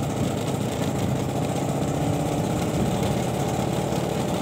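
A silver Vespa Exclusive scooter engine runs steadily with a constant, close mid-pitched hum and rattle that holds even, with no one speaking.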